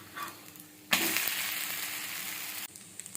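Jackfruit dosa frying in ghee in a pan: a quiet start, then a sudden loud hiss of sizzling that holds steady for about two seconds before cutting off to faint crackles.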